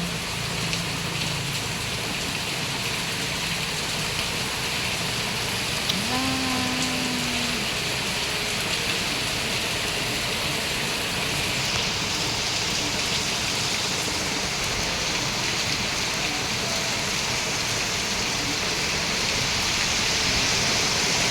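Heavy typhoon rain pours steadily and loudly in Ilocos Sur, a dense unbroken roar with a brief low animal-like call near the start and faint tonal sounds midway.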